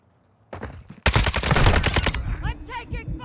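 Call of Duty: Modern Warfare 2 gunfire comes in loud, dense bursts of rapid automatic shots that start abruptly and clatter for about a second. Sharp impacts follow, and a radio-style voice speaks over the tail.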